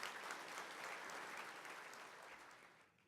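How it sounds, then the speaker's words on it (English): An awards gala audience claps for education foundation supporters, a dense, even burst of applause that carries for about three seconds, then starts to fade. "Let's give our Education Foundation supporters a big round of applause."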